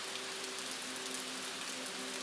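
Steady rain hisses as an even, continuous wash with a soft sustained tone underneath, faint and unbroken with no talk.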